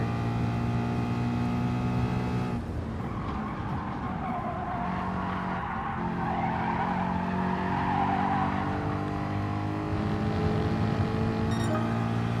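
Race car engine from the Gran Turismo Sport video game on a pole qualifying lap, a steady loud drone with shifting pitch and gear changes throughout, no talking.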